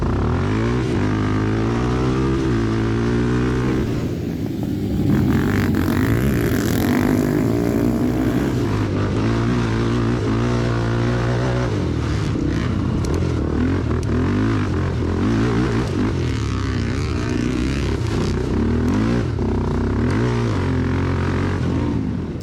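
A pack of 400cc dirt bikes in the sport class revs hard at the start of a race, a loud, dense engine roar with rising and falling harmonics that holds steady throughout without a break.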